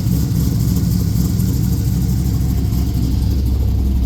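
A scrapped 1972 Buick Skylark engine runs at a steady idle, a loud, even low rumble with no pauses and no talking over it.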